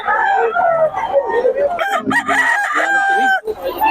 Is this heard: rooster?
yes